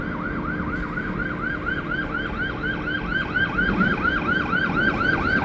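A police car siren wails continuously with a fast, repeating up-and-down yelp, loud and close, over steady street traffic rumble.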